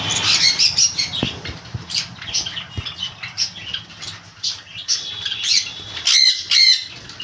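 Pet conures, including sun and pineapple types, and lovebirds squawk repeatedly in shrill bursts, mixed with fluttering wingbeats and light pattering, ending in a louder cluster of cries.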